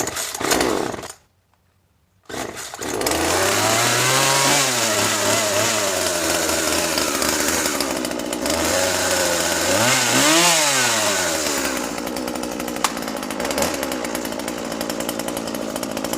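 A Husqvarna 136 chainsaw without a primer bulb is pull-started and catches, roaring loudly at close range, its engine revving up and down repeatedly before settling into a steady run.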